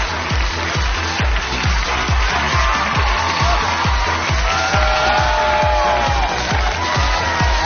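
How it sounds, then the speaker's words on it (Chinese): A television studio crowd claps and cheers loudly as a guest walks onto the stage of a game show. Rhythmic clapping runs steadily beneath scattered whoops and cheers. "掌声有请马丽。"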